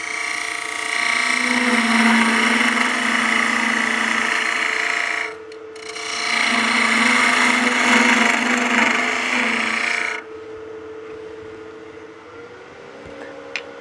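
Wood lathe taking a cut with a 40/40-ground gouge, shaping a cone-shaped taper: a steady, loud rasping scrape that runs for about five seconds, pauses briefly, then resumes for another four before dropping to the quieter hum of the spinning lathe.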